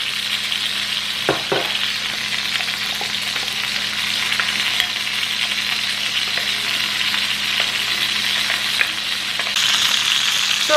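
A ribeye steak fries in a pan on a stovetop, giving a constant close, loud sizzle with faint spatter pops and a few light scrapes, no talk.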